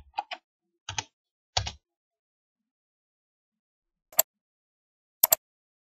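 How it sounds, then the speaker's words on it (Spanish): Sparse keystrokes on a computer keyboard: a few quick clicks in pairs early on, a pause, then two isolated taps, close and crisp against silence. "tecleo en esta parte hotmail.com."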